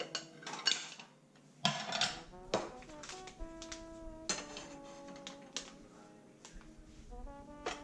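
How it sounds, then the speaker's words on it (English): Metal pots, pans and utensils clatter and clink in a home kitchen as measuring and cooking tools are gathered for breakfast, with scattered sharp knocks and ringing taps at close range. "Then assemble the proper measuring and cooking tools."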